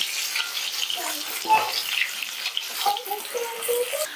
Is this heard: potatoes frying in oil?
yes